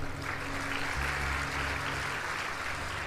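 A crowd claps during a Hindu religious discourse, a dense, steady wash of applause that keeps going for the whole stretch without a break.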